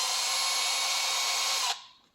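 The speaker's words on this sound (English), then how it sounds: "pull onto your drill and just spin it" A power drill whirs at high speed with a steady, loud whine as it spins to wind a remote starter wire taut, then cuts off and winds down abruptly.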